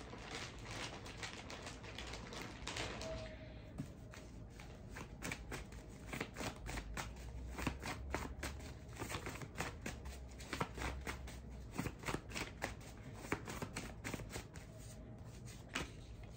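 Index cards being shuffled, a dense run of quick papery riffles and flicks that carries on steadily throughout, close and fairly quiet, with no talking.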